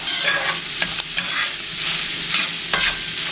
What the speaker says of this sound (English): Now I'm just going to stir this up.